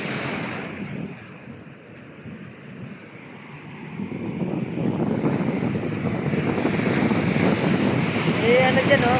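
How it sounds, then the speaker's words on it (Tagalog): Big surf at a murky beach in Tanza, Cavite, rolls in as a steady, broadband roar, swelling louder in the second half, with wind buffeting the microphone throughout. "Laki ng alon, no?"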